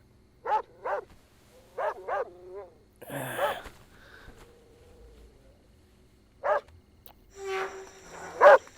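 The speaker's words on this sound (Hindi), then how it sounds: "वो कुत्ता पागल है, उसके नजदीक जा रहा है।" A dog barks in a movie street scene, several short sharp barks in pairs near the start, then louder barks later, with a brief rushing noise between them and no talk over it.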